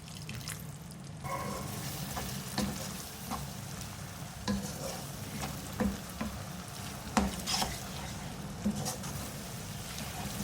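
Brain masala with tomatoes, red chilli powders and a splash of water sizzles steadily in a pan while a spoon stirs it, adding soft scraping clinks and wet bubbling at intervals, fairly quiet and close.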